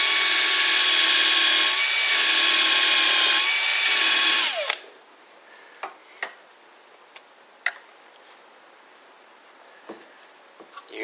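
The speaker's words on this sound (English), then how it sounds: "So I'm going to stop at the tape and drill right on those little prick marks" A power drill bores into a hardwood drawer front for about four and a half seconds with a loud, steady whine. The motor then stops, leaving scattered faint ticks and taps.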